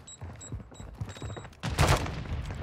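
Gunfire from a sniper in a solo battle-royale shooter game, with several faint shots early on and then a loud, close burst of fire, followed by a rumbling tail.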